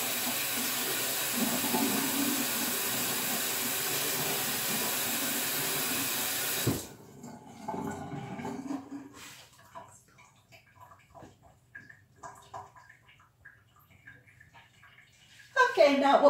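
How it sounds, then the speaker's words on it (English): Running tap water pours steadily for hands being washed while bread dough is being made in a kitchen. The water cuts off after about seven seconds, leaving faint handling noises and quiet movement. "Let me wash my hands."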